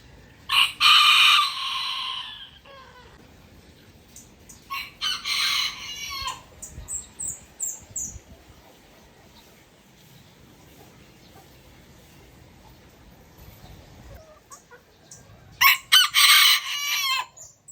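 A rooster crows loudly several times, with chickens clucking between calls, outdoors on a small home farm around seven in the morning where a duck is also nearby.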